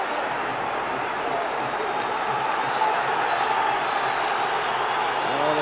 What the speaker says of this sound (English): Well, the crowd getting behind Rangers here.